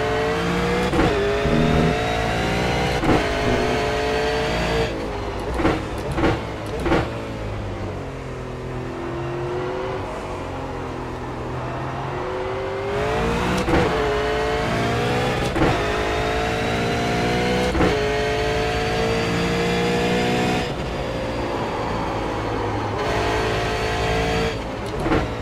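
A V8 Supercar engine races in the iRacing simulator, loud and continuous, with the pitch climbing through the gears, sharp shift cuts, dips under braking and repeated revving back up to speed, heard alone without talk.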